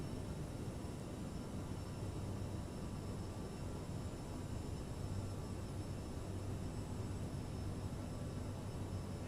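Steady engine drone of a CRJ-700 regional airliner in Microsoft Flight Simulator, a constant broadband roar with a faint high whine, unbroken and moderately loud throughout, with no talking.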